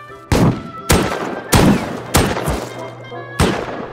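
Shotgun traps firing in the Rust video game, five sharp booming blasts at irregular intervals, each with a short rumbling tail, loud and close over a low steady hum.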